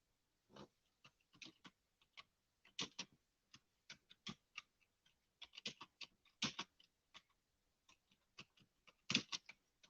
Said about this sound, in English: Let me just type an answer back to somebody real quick.